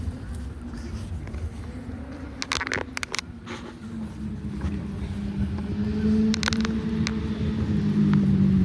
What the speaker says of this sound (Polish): Motorek zdecydowanie za głośno. Słychać go bardzo daleko od drogi.